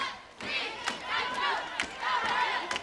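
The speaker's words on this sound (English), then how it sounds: "you can hear the crowd say, please, Nitro, don't hurt him." Wrestling arena crowd shouting and chanting in a dense, continuous roar with sharp spikes, loud and close, with no clear single voice standing out.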